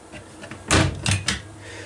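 A metal locker door on a 2019 Pursuit OS-355 boat clicks and swings open with a few short clanks and rattles, close and fairly loud.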